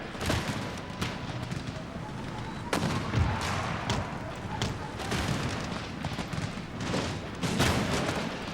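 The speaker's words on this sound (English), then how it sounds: "There go those stupid mortars, finally." Mortars and gunfire on a battlefield in Empire: Total War, with repeated booming reports and scattered musket shots spread across several seconds over a continuous rumbling din.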